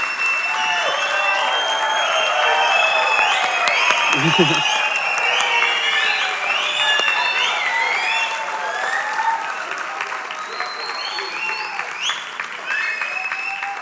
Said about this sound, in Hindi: एक बार जोरदार तालियां हमारे पैनलिस्ट के लिए